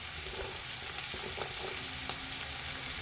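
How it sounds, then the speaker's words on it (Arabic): Carrots, celery, colourful sweet peppers, hot chilli and garlic sauté in a pan for a Sengari-style fish dish, giving a steady, dense, close sizzle with light stirring scrapes and no talk. "هنزل عليهم بقى بالجزر بتاعي ياخد له برده تشويحتين كده"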